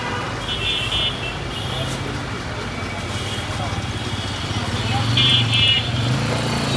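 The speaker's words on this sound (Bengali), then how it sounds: "সাউন্ডটাও আপনারা শুনে নিন কীরকম সাউন্ড আসলো ইঞ্জিনের কমপ্লিট করার পরে" A Honda CG125 modified into a cafe racer runs on a test drive. Its single-cylinder engine holds a steady, rumbling drone with road noise, and voices are faintly mixed in.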